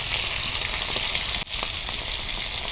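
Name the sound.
fish frying in oil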